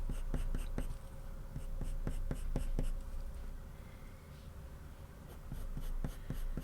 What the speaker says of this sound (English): using a fairly hard pressure with the pencil here just to try and get some sort of tone down